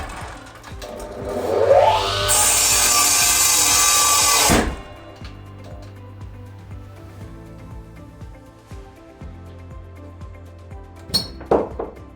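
A Max MXMS-255i sliding miter saw with brushless motor spins up with a rising whine and cuts wood loudly for a couple of seconds, the blade binding before it stops abruptly, followed by quieter shop noises.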